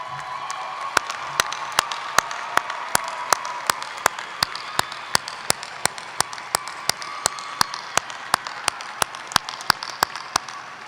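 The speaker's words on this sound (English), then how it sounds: "Will all of these students please rise for our applause?" Audience applause at a 2014 NJIT university commencement, honoring cum laude graduates with bronze medallions as they rise: a steady wash of clapping from a large crowd, with sharp regular claps standing out close by throughout.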